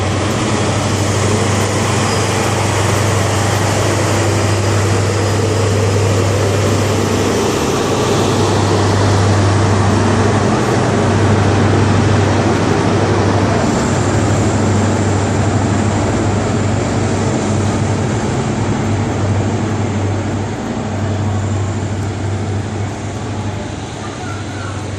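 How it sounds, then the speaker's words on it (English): A London Paddington train pulls out of Exeter St David's station on the Great Western Main Line, its engine throbbing as a loud, steady low drone with rising rumble for a long stretch, then easing slightly as it moves away. "you got the London Paddington train now leaving"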